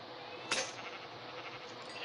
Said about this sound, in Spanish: Oh, ¿qué es eso? Oveja.